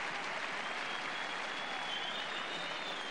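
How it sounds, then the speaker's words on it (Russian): A boxing crowd applauds at the end of the third round of Arthur Abraham vs Wayne Elcock, a dense, steady roar of clapping from a large audience with no break. "Публика аплодирует, публика довольна."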